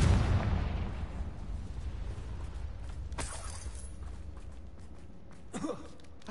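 A Confringo fire spell goes off in Hogwarts Legacy, opening with a loud, rumbling burst that fades into a long roar, with a few sharper cracks coming later.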